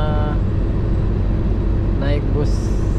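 Inside a long-distance inter-island PMTOH bus in Aceh, a loud, constant low engine rumble and road noise fill the cabin, a short horn-like tone sounds partway through, and a person talks over it.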